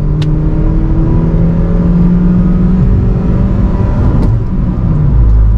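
Car with a vintage conventional automatic gearbox driving on a highway, shifted down to second for engine braking before a tight curve; steady loud engine drone and road noise throughout, with a pitch shift as the gear drops.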